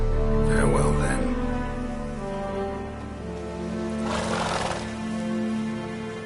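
Geralt's horse Roach whinnies loudly in a Witcher 3 game scene, a rising and falling neigh near the start, with light clip-clopping hooves and a second snorting burst around the fourth second over a steady musical game backdrop.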